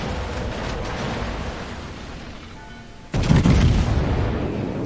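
Warship Seattle's guns firing in World of Warships, a sudden loud deep boom rolling out near the end after a quieter stretch of ambient sea and battle rumble.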